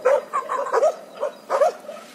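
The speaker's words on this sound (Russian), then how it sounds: "рядом гаражи, вот там и лают собаки" Dogs barking near a row of garages outdoors, guarding their territory: a run of repeated barks and yips at moderate distance, coming in bursts with short gaps.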